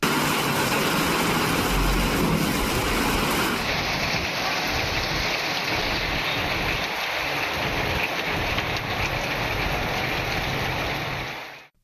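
Heavy rain pours steadily in the Thalavadi hills of Tamil Nadu, a loud, dense, continuous hiss that lasts throughout with no voices, then fades at the very end.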